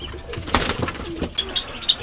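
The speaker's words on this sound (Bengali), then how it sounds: "যাইতে যাইতে ভিডিও করে ফেলতেছি কবুতর যেগুলো আমার পাশে ছিল সেগুলা" Pigeons in a loft coo softly and close by, a few short throaty calls over low background noise.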